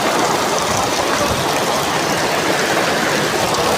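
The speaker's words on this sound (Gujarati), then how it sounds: "3 કલાકથી વરસાદ આવી ધોધમાર વરસી રહ્યો છે" Heavy pouring rain in Amreli, a dense, steady broadband roar of downpour holding constant and loud throughout with no pauses.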